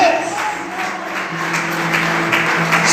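A church congregation claps during a sermon, a brief, dense wash of applause mixed with the hum of the hall and faint sustained tones.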